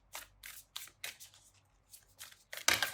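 Hanafuda cards are shuffled by hand in a series of crisp riffling bursts, close and fairly loud, ending in a denser, louder flurry. No one speaks.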